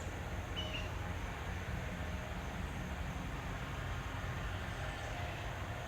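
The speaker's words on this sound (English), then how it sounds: "You can hear all the tractors going by." Tractors pass along while cutting hay, a continuous low engine rumble and broad outdoor noise throughout, moderately distant, with no talk.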